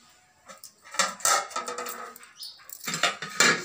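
A metal pan is set down on a kitchen stove, with a few close clanks and scrapes of cookware and some clatter, quiet and without speech.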